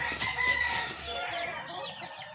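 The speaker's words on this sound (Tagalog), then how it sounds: "mga alaga nating sisiw. Kagutom na." Hungry young chicks kept as farm pets peep in a quick run of high, thin chirps, loud and close at first, then softer and scattered toward the end.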